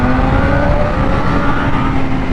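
A BMW S1000RR sport bike launching hard in second gear, its loud steady engine roar and whine filling the clip close to the microphone, without talk.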